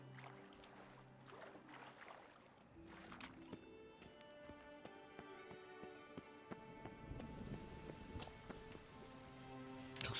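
Rainfall in The Witcher 3: Wild Hunt, patter of drops on surfaces with scattered clip-clop like knocks and game sounds, faint and continuous.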